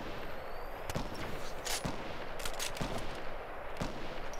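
Several sharp gunshots crack out in a Fortnite match, including a sniper rifle shot, spaced about a second apart over steady background noise, fairly faint overall with no voices.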